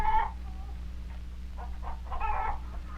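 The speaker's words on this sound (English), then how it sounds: "These chickens are called white leghorns." White Leghorn chickens cluck and squawk in short bursts on a farm, one brief call at the start and a busier cluster near the end, over a low background hum.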